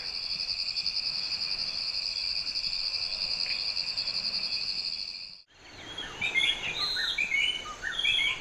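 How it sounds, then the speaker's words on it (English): Steady, high-pitched insect chirring fills the night air in Rwanda, joined later by scattered bird-like chirps and calls, with no voices. "I get to fall asleep to the sounds of all these fun bugs outside"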